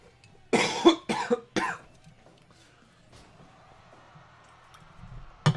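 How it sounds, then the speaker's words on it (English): A man coughs several times in a loud, close burst of harsh coughs, followed by quieter background noise. "I'm talking so much I'm making myself cough"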